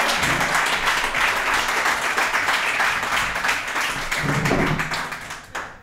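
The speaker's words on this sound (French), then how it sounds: "J'aimerais ça qu'on fasse beaucoup de bruit pour votre animateur" A live comedy podcast audience at ComediHa! gives its host loud, sustained applause with dense clapping and some cheering, holding steady for several seconds before tapering off at the end.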